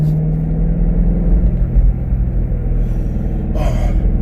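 A BMW E92 M3 with an ACM muffler idles and rumbles steadily up close, a deep continuous exhaust drone with a brief rise near the end.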